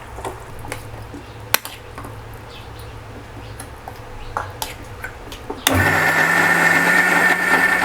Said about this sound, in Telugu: ఇందులో చింతపండు నీళ్ళు పోసి మిక్సీ పట్టాలి.